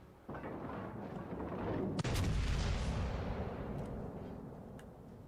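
Battleship naval gunfire in World of Warships: Legends, a heavy boom at the start followed by a louder blast about two seconds in, then a long rumbling decay, no voices.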